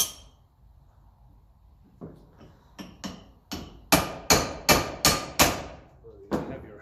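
Metal hammer blows on the Lucas dynamo of a 1954 Ferguson 20 TEF diesel tractor, driven against the truss washers: about ten ringing strikes that start soft and grow louder and more evenly spaced, close and bright in a quiet workshop.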